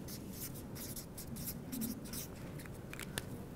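A pen scratching across paper as sentences are written in a classroom language lesson, with quick, repeated strokes in an irregular rhythm.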